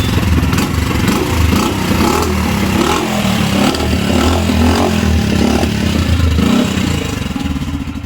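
A low cc motorcycle with a dB killer fitted in its exhaust runs close by, a loud, steady, rough rumbling drone that throbs in uneven pulses, with no talking.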